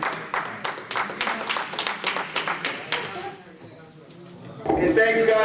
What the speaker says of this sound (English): one more clap for Max Dread